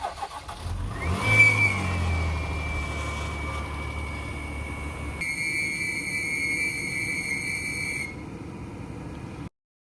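A 2015 Jeep Cherokee Trailhawk with the 3.2 engine cranks and catches on a cold start, and a shrill, steady belt squeal rides over the idle. The whine changes pitch midway and keeps going until the sound cuts off.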